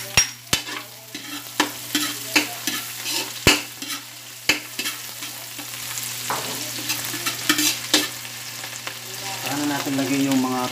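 Garlic fries golden brown in a pan for fried rice while a metal spatula stirs it, giving steady sizzling with sharp scraping clicks against the pan, close and continuous, and a steady low hum behind.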